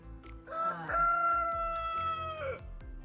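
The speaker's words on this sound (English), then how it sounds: "Dang rooster." A rooster crows once, loud and close, a long drawn-out call rising and falling, with a brief cluck at the end.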